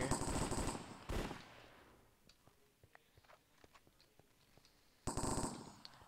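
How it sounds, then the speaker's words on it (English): A firefight in the video game Cops and Crims carries loud bursts of gunfire near the start and end, with faint scattered shots and footsteps in the quieter stretch between. "There's a firefight going on, like, right over here."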